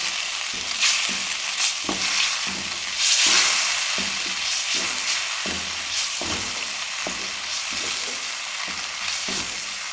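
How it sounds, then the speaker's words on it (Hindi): Semolina being roasted in a pan for halwa, a steady dry sizzle under repeated rhythmic scraping strokes of a spoon, close and moderate in level. "सूजी को उस वक्त तक भून लेंगे जब तक इसमें से अच्छी सी खुशबू ना आना शुरू हो जाए।"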